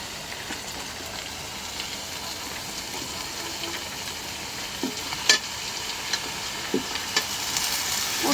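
Sliced bitter gourd and potato fry in a hot pan with onion, giving a steady close sizzle and hiss with occasional stirring clinks, no voices.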